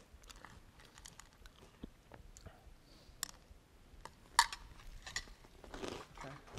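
Faint, close crunching and chewing of Cap'n Crunch cereal eaten as a snack, with scattered clicks and bites at an irregular pace and no talking.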